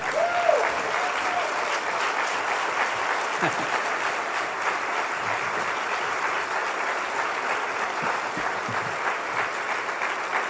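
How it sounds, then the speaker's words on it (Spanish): Church congregation applauding loudly during a Spanish-language sermon, a sustained, dense roar of clapping from a large crowd that holds steady throughout. "denle otro aplauso al Señor, pero así bien fuerte"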